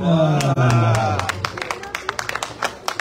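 Scattered hand claps from an audience at a live magic, mentalism and hypnosis show, a sparse smattering of applause following a stretch of voices, with claps sharp and irregular toward the end.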